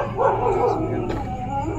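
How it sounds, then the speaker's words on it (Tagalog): A dog barks and whimpers from inside a building during a night visit near a burned coffin, yipping sounds fairly close over a steady background hum. "Ah, may aso sa loob ah."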